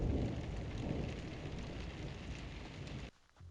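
Heavy rain pours down on the Colorado Plateau as a dense, steady hiss that stays loud for about three seconds, then drops off abruptly near the end.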